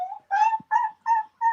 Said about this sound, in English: That's the dog whine.